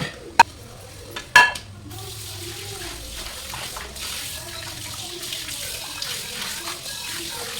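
Dishes are washed in a home kitchen sink at night. A few sharp clinks of pots come first, then water from the tap runs steadily close by, with light splashing and rattling over it and no talking.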